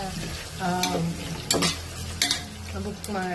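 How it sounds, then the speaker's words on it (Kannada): Vegetable biryani with mushroom and paneer being stirred and fried in a pan, a steady sizzle with repeated scraping strokes of a spoon against the metal, close and loud. "ಇವಾಗ ವೆಜ್ ಬಿರಿಯಾನಿ ಮಾಡ್ತಾ ಇದ್ದೀನಿ"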